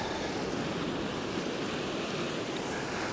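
Strong, steady wind buffets the microphone at Sandbanks Beach, a constant broadband rush blended with surf and no voices.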